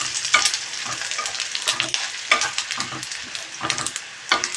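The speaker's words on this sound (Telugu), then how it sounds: "1 కప్పు ధనియాలు వేసుకుని ఇవి కూడా చక్కగా కొంచెం గోల్డెన్ బ్రౌన్ కలర్ వచ్చే వరకు ఫ్రై చేసుకోవాలి" Coriander seeds, dried chillies and tamarind fry in a pan for a temple-style coconut chutney, making a loud, continuous crackling sizzle with repeated scraping strokes of a stirring spoon, close and steady throughout.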